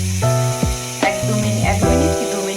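Chicken bharta ingredients frying and being stirred in a pan, a steady close sizzle with a few scraping stirs, mixed under a melodic tonal background throughout.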